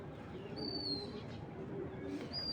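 Racing pigeons from 2022 coo softly and continuously in a loft, a low, steady murmur with a few faint higher chirps scattered over the top.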